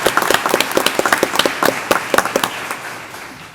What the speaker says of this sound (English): A big round of applause for Baldomero